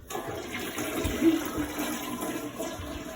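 A home toilet flushing nearby, a steady rushing swirl of water that holds for several seconds with no voices.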